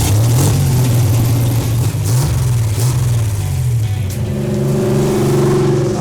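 The engine of a custom 1974 Chevy LUV, really an Isuzu, pickup called Lil Blue rumbles loud and close, its pitch rising and falling through several revs before settling into a steadier, throaty idle.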